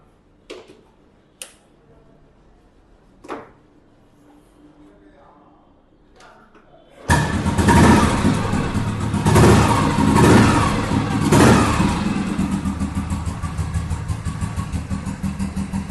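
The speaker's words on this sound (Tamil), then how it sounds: "இப்போ நான் வெஹிக்கிள் ஸ்டார்ட் பண்ணி காமிக்கிறேன் பாருங்க." A restored 1992-model vehicle's engine cranks to life after several seconds of near silence broken by a few faint clicks, then roars loudly and revs up and down in a few swells before settling into a steady idle.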